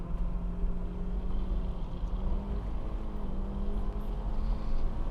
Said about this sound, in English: I can't even tell like where I am in the gear range because I'm bouncing off the rev limiter